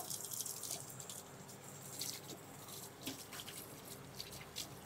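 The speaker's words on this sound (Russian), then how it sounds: "Мою руки, ополаскиваю" Hands are washed and rinsed under running tap water, a faint, continuous trickle with small splashes and drips.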